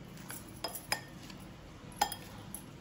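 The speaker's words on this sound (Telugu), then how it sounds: "ఒకసారి ఇవన్నీ బాగా మిక్స్ చేసి" Maggi bhel ingredients being tossed together in a bowl: a few faint, scattered clinks of a spoon against the dish over quiet room tone, irregularly spaced, with no voices.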